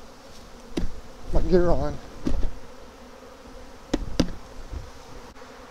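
Honey bees swarming around a swarm trap on a tree, a faint constant buzz beneath a man's brief speech and a few sharp knocks.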